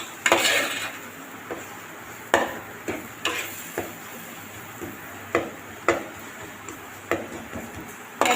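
Chicken biryani masala fries in a wok with a splash of water as a metal spoon stirs it. Sharp clanks and scrapes come every half second or so over a low, steady sizzle.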